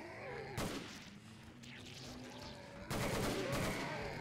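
Bursts of full-auto fire from a Steyr AUG A1 bullpup rifle in Killing Floor, loud rapid rattling shots in two long volleys separated by a brief pause.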